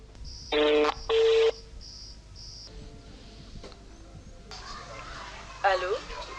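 A telephone rings out with two loud, close electronic tone bursts and shorter beeps, over a steady insect or cricket chorus, and brief voices come in toward the end.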